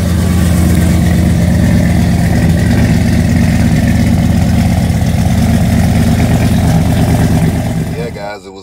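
An LS-swapped boxy Chevy idles steadily and loudly right after restarting with a newly replaced gas tank, its low rumble holding even throughout before cutting off at the very end.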